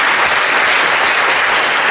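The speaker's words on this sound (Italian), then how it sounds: "Un applauso al dottor Alù" An audience applauds guests at the final evening of the Prunola 2019 event, a steady, dense wash of many hands clapping that stays loud and even throughout with no voices breaking through.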